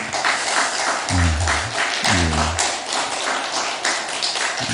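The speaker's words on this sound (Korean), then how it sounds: "박수로 우리 환영할까요?" A church congregation at a Sunday worship service claps to welcome a guest; a dense, steady wash of applause fills the room, with a couple of brief voiced tones rising over it.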